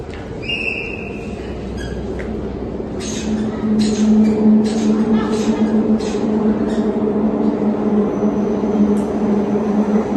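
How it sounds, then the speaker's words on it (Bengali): A Delhi Metro train rumbles into the station with a rising mechanical hum and squealing tones, steady and loud, with some voices in the background. "মেট্রো চলে এসেছে"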